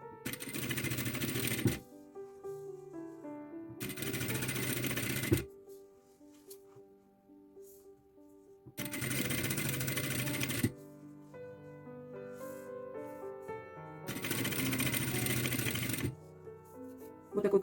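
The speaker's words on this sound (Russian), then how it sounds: "Разравниваем и начинаем строчить." A sewing machine stitching folded piping with a cord inside using a single-toe foot, four bursts of rapid close mechanical whirring separated by quiet pauses.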